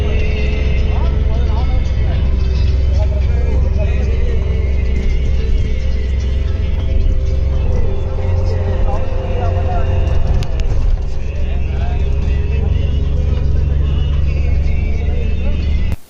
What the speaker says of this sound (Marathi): 8 सीटर गाडी आहे ओमनी.